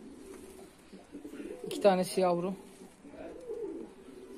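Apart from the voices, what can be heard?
pigeons cooing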